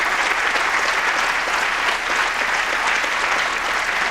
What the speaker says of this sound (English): our wonderful panel, please give them a huge round of applause